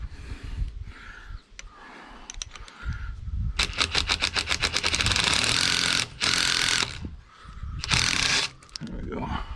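A wrench ratchets against a wheel loader steering pin in a rapid metallic clicking burst, close and loud, with clanks, shifting and brief grunts around it.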